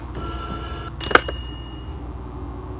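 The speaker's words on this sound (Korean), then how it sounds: "어디서 전화 소리가 들렸는데" An old-style telephone bell rings with a sustained electric trill in the White Day mobile horror game, then cuts off and is followed by a sharp clatter, with no voices.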